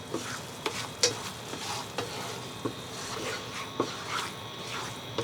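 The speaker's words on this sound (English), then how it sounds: "saute nicely until this butter and flour combination become a little bit lightly brown" Butter and flour sauté into a light roux in a pan for Japanese curry, a soft steady sizzle broken by repeated clicks and scrapes of a utensil stirring against the pan.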